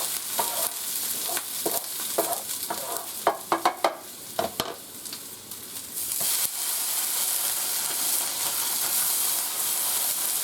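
Pork chops sizzle loudly in a hot skillet, a constant crackling hiss punctuated by scraping and clanking of a utensil stirring in the pan.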